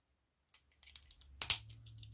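Plastic clicks as a detachable stack is pressed down into a groove on a Blazing Teens toy: a few light taps, then two sharper snaps close together, followed by a faint low hum.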